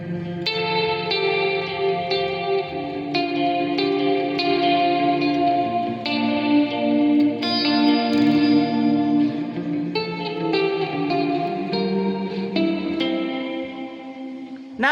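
Electric guitar played on a clean tone through a Laney amp with reverb from an M-Vave Tank G in the effects loop, sustained chords and ringing notes washing into a lush, echoing tail, steady and alone with no talking.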